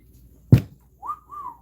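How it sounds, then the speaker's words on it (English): After a single soft knock, a person whistles two short, rising-and-falling notes close to the mic, faint and a little breathy, with no talking. "that was supposed to be a whistle"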